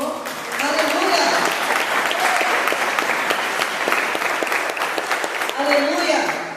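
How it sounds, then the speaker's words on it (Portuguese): A church congregation claps for the Lord, a dense, lively round of applause sustained for several seconds, with voices calling out over the clapping. "Dê uma salva de palmas para o Senhor."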